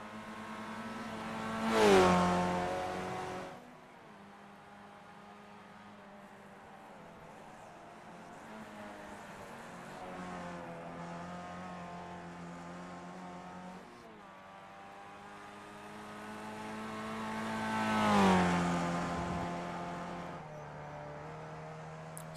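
Race cars lap Watkins Glen in a racing video game, two distinct pass-bys rising to loud peaks and fading, with a steady engine drone between them.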